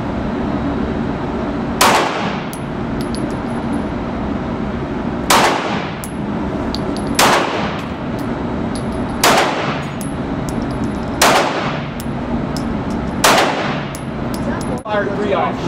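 Gunshots at a gun club zombie target shoot, about seven loud single reports spaced a couple of seconds apart, each with a ringing metallic clang, over steady outdoor background noise.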